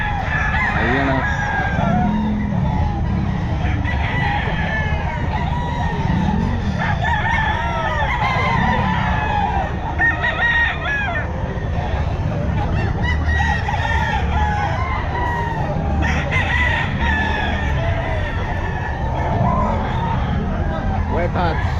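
Bull stag gamecocks crow again and again at a busy pet market, with loud overlapping crows and clucking close by over a constant babble of voices and people talking.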